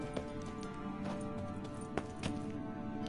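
A horse's hooves in The Witcher 3 video game clip-clop in a steady, rhythmic gait, moderately loud against a continuous layer of game background sound.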